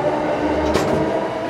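Inside a moving Tokyo subway train, a loud steady rumble and rolling roar fill the car, with a brief louder clack partway through and no talking.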